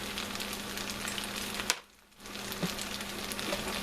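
Tomatoes and pepper sizzle steadily in a one-pot chicken pasta, with a brief clack of a spatula against the pot before the frying briefly drops away and returns.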